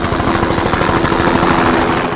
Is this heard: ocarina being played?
no